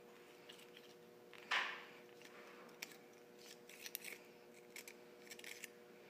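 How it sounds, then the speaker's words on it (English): Stainless steel tubing being deburred with the built-in deburr tool of a tubing cutter, one sharp scraping bite followed by faint, irregular small scrapes and clicks as the tool twists. "This normal tubing cutter has a deburr tool. Slips in there and you twist it."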